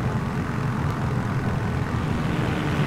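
A video-game aircraft called a Rez coming in to land, its engine a steady loud droning roar that holds even throughout.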